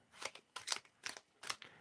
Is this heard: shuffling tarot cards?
yes